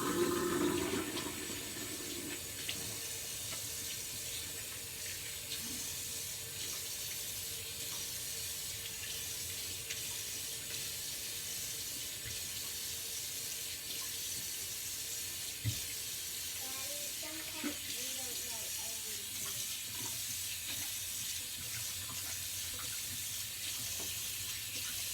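Tap water runs steadily into a sink during cleanup after a wet shave, a soft continuous hiss and splash lasting the whole stretch, fairly faint and without talk.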